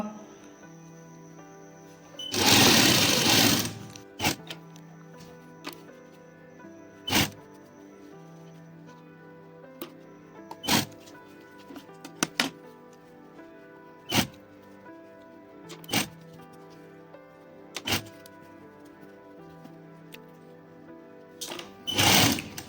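A sewing machine stitching an Afghani salwar whirs in one short burst near the start. Afterwards come scattered sharp clicks and taps of handling in an otherwise quiet room.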